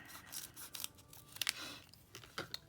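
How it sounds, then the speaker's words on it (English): Scissors snip through vellum paper in a few quiet, crisp cuts with short pauses between them, close by in a quiet room. "I'm gonna cut this one here"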